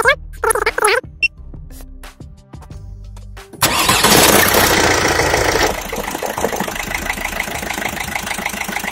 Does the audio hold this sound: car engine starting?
yes